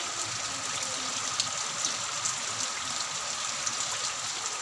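Heavy rain pours down steadily, a dense, constant hiss with a soft rushing undertone, loud and unbroken for the whole stretch with no voices.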